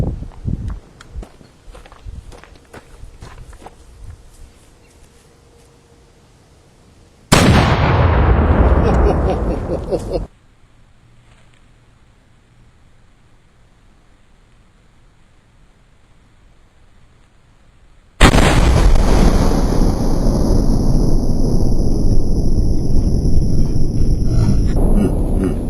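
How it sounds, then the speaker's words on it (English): A 7-pounder mountain gun, loaded with 8 ounces of FG powder and a canister round with chain shot, fires outdoors at a 25-yard range: a sudden loud blast that dies away, and later a second heavy, noisy burst lasts until the end. "This is round number 2, 8 ounces FG powder, canister round, chain shot."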